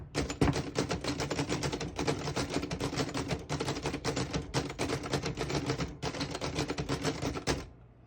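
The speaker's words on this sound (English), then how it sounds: "I'll type a sentence in red on the next line." A 1937 Remington Noiseless Model 7 portable typewriter types steadily for about seven seconds, its dense, rapid keystrokes close and alone before stopping abruptly.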